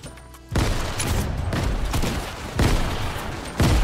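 Rapid grenade explosions and blasts in a first-person shooter video game, loud and close, with a sudden burst followed by sustained rumbling booms and fresh detonations every second or so.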